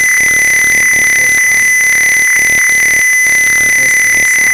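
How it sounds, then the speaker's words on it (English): A continuous high-pitched electronic buzzer tone from a simulated home security alarm in Tinkercad sounds steadily and loudly throughout, with faint clicks and noise beneath it. "the alarm the buzzer will make a sound"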